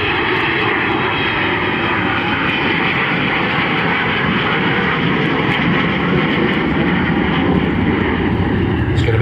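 Avro Vulcan bomber XH558 at the East Fortune airshow in 2009, a loud continuous jet roar at full power that fills the whole stretch without a break.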